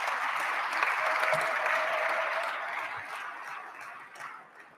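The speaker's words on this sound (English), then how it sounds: "So let's give them a big round of applause." Audience applauding student award recipients at a career and technical education celebration, steady dense clapping from a large room that holds strong before gradually thinning out toward the end.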